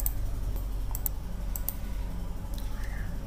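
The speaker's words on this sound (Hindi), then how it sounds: "आप यहाँ पे कैप्चा डाल के साइन अप पे क्लिक कर देता हूँ।" A computer keyboard clicks in a quick irregular burst of keystrokes, followed by a few separate clicks, close and fairly quiet over low background hum, while a captcha is typed and sign up is clicked.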